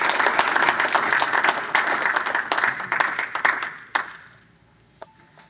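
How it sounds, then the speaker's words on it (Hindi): An audience at an Urdu poetry program claps and applauds loudly for about four seconds, then the applause quickly dies away into near silence with a single stray clap. "आपकी तालियों के साथ"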